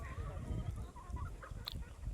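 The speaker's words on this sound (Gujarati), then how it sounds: "એક બાજુ કુકડા રખડે" Roosters roaming in the shade of a neem tree give close, repeated clucks in short bursts, with soft background voices barely present.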